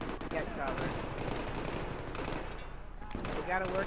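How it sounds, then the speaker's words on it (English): Gunfire in the video game Battlefield 3, with a dense stretch of rapid shots and battle noise, fairly faint and steady throughout. "I'm getting shot at."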